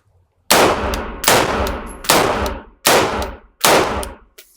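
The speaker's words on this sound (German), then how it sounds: "wir müssen erstmal einhändig schießen können" Handgun fired one-handed on a range, five sharp, loud shots spaced roughly evenly under a second apart, each with a short ringing decay and no talking between them.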